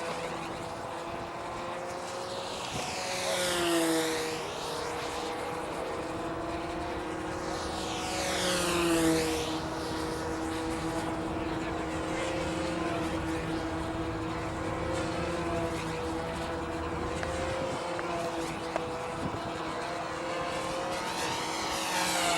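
Steady buzzing propeller drone of a model airplane, swelling twice as it passes close by, then holding a constant, moderately loud whine in the distance.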